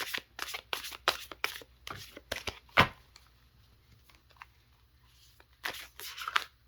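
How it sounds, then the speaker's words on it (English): Cards are shuffled in quick bursts of riffling and flicking, with a short pause before a final flurry, close and fairly quiet. "All right, so I'm gonna shuffle these cards."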